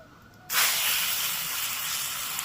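A thin egg paratha laid onto a hot tawa griddle bursts into a loud, sudden sizzle that keeps hissing steadily and fills the rest of the moment, with no talking.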